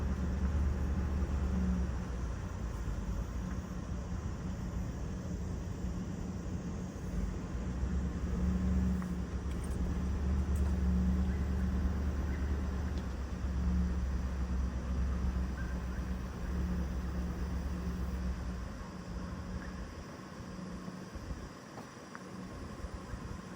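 A car rolls slowly along the roads of Algonac State Park, giving off a steady low road and engine rumble that holds throughout and eases off near the end, with no one talking.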